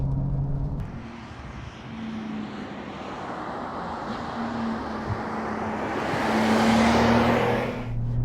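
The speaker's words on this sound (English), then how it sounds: "It is quite loud in terms of the road noise and the wind" Steady, loud road and wind roar inside a moving 2021 Porsche 911 Turbo cabriolet: a broad, continuous rumble and hiss that swells slightly toward the end, with no talking.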